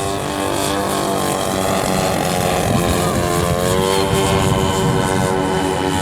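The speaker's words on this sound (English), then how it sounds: "Watch how sweet this airplane lands." Loud, close propeller-driven airplane engine droning steadily as the plane comes in to land, with a rich buzzing tone and no talk.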